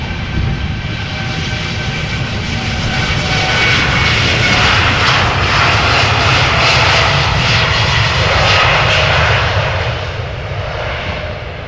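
An Air Europa Boeing 787-9 Dreamliner takes off from Amsterdam Schiphol, a loud sustained jet engine roar that swells and holds with whining tones, heard from nearby and easing slightly at the end.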